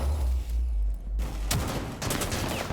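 Gunfire rattles through a competitive Rainbow Six Siege match: loud, rapid bursts of shots with a brief lull, then sharp volleys resuming close and intense.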